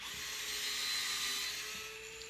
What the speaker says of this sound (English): Witchcraft with power tools.